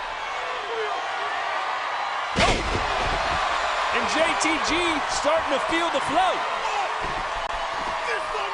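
In a televised WWE SmackDown wrestling match, two kicks land on a wrestler's back with a sharp slam, followed by repeated impacts under a loud arena crowd and a commentator talking.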